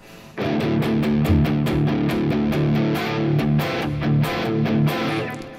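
A heavily distorted electric guitar in drop D tuning plays a chunky, punchy blues riff with rhythmic palm-muted chugs and sharp accents, loud and up close.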